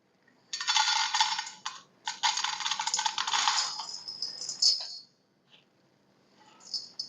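Crispy fried small boondi shaken inside a chopper container gives bright, dense rattling in two loud bursts, then fades to lighter scattered rattles, close and alone without talk.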